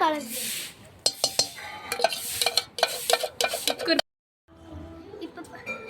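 Melted chocolate being stirred into cake batter, with a spoon scraping and clinking against a bowl in quick, uneven strokes while someone talks. It then pauses briefly before the stirring resumes.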